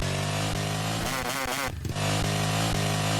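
Motorcycle engine in a Roblox game, revving loudly with a steady buzzing drone, a rapid rising-and-falling rev flutter midway, then a brief gear-change dip before the high-pitched whine resumes.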